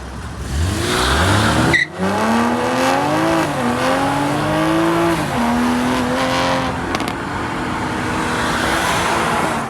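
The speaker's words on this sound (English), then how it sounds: "Got this Camaro right here." A Camaro engine with a very long exhaust revs loudly and climbs through several gear shifts, its deep exhaust roaring close by, with no talking.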